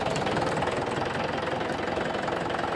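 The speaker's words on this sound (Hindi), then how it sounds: "आप लोगों के सामने ट्रैक्टर भाई चला के दिखा रहे हैं कि किस तरीके से कैसा काम कर रहा है" A tractor converted into a JCB-style loader runs with a steady, close diesel chug and a rhythmic knocking throb, continuous with no pauses.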